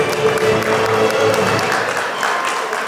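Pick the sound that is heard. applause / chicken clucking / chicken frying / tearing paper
applause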